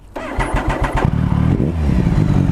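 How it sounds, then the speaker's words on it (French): A motorcycle engine cranks with a few rapid starter pulses, then catches and settles into a close, throbbing idle with a brief rev. "Moteur."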